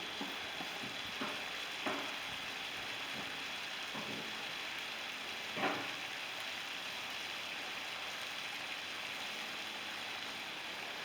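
Beef and onions frying in a wok for a beef and olive tagine: a steady, fairly soft sizzle runs throughout, broken by a few faint clunks of stirring, with no talking.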